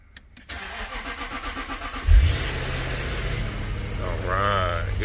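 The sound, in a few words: Jaguar XK8 engine starting after a jump start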